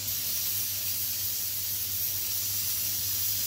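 Cooking oil poured into a hot pan for chicken pulao gives off a steady, loud sizzling hiss that continues evenly throughout, with no voices over it.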